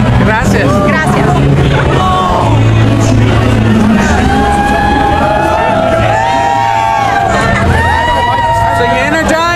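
An energetic crowd at a campaign rally for Newt Gingrich, a loud continuous hubbub of cheers, whoops and shouts with scattered voices rising above it, close and sustained.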